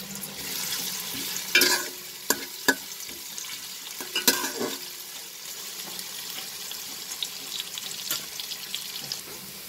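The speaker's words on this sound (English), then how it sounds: "fry these onions. Fry it over a high flame." Onions frying over a high flame for pulao, a soft continuous sizzle with intermittent stirring clatter and scrapes, fairly quiet and without voices.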